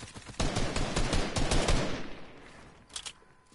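Rapid bursts of gunfire in an arena shooter video game, a dense, loud volley of close shots for about two seconds, then fading, with one more short burst near the end.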